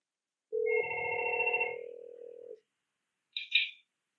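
A Fanvil A12 intercom rings with an incoming call: a steady electronic tone for about two seconds, then silence and a short second chirp, close and clear with no talk.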